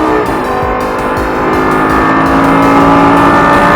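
A Lamborghini accelerating hard on a track and upshifting, a loud, close engine roar that climbs steadily in pitch with a brief break at the gear change, filling the whole stretch without talk.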